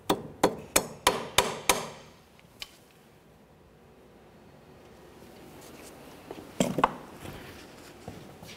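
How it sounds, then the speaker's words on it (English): A hammer strikes metal while peening over a tie rod nut during inner tie rod replacement on a 2004-2006 Scion xB, six quick sharp blows in a row, a lone tap, then a few more scattered hits after a quiet pause. "Peen that over so there's no way this nut can loosen up on its own while you're driving down the road."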